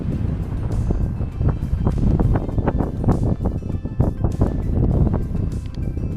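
Strong wind buffets the microphone in loud, gusty bursts in the Peak District hills, rumbling continuously with no voices present.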